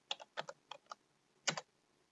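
Short bursts of keystrokes on a computer keyboard while a command is entered on Linux Ubuntu, a quick cluster of clicks, a pause, then one more close, quiet tap group, with no talking.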